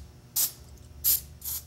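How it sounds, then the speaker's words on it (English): Liquid Wrench penetrating oil sprayed onto parts of an old Sears saw during disassembly, heard as three short, close hissing bursts from the aerosol can with quiet gaps between them. "I'm going to hit this thing with WD-40 or equivalent. I happen to have liquid wrench."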